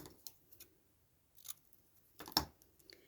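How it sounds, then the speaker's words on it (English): Scissors snip off a bit of craft material with a few quiet, short cuts spaced apart in an otherwise still room. "I'm going to snip that bit off the bottom"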